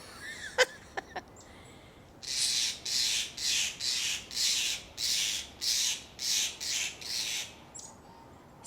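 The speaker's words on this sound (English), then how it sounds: "I have a bird who's complaining." A pet bird squawks in a run of about ten harsh, evenly spaced raspy calls, loud and close, after a few brief sharp clicks in an otherwise quiet room.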